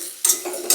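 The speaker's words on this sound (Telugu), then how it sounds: "వీటిని వేసి 1 నిమిషం ఇట్లా కలిపిన తర్వాత" A spoon stirs fried Bommidaalu fish into a curry in a pan, giving a few short scraping swishes in quick succession, close and clear, with no talk.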